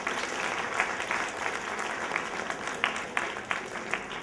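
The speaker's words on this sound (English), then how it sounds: "Give her a big round of applause," An audience at a student's stage performance gives a sustained round of applause, a dense even patter of many hands with a few sharper claps standing out, heard at moderate distance.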